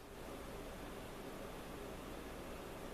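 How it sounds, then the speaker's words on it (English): Wood gas camp stove heating a pot of water, giving off a faint, steady broadband hiss that holds level throughout with no other sounds. "You can hear it starting to hiss."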